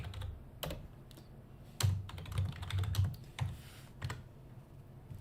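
Irregular clicks and taps of a computer keyboard, bursts of fast keystrokes with short pauses, close and fairly quiet over faint room noise.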